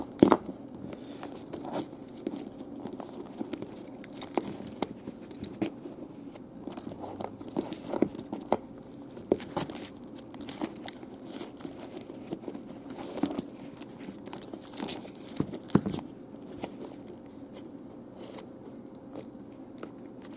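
Cut replacement laces being pulled out of the BOA lacing system on a Klim motorcycle boot, giving a steady run of close, dry scraping, rustling and small clicking ticks with no talking.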